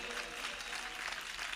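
A church congregation at a Christian Telugu service claps together in a steady, dense patter, faint and distant, for a short burst.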